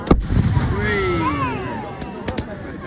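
Bonfire Night fireworks burst with a loud boom up close, followed by several sharp pops and distant cracks, while people talk and cheer over the din.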